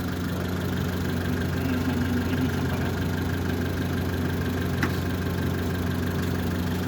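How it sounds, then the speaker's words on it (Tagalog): A Mitsubishi Lancer engine idles steadily nearby, a smooth continuous hum with a faint rhythmic rattle and no voices. "Pero maganda ang andar ng makina."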